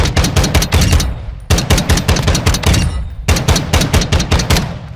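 A KAC M110 rifle fires in Modern Warfare II in three loud, rapid strings of sharp shots, each several cracks long, separated by brief pauses.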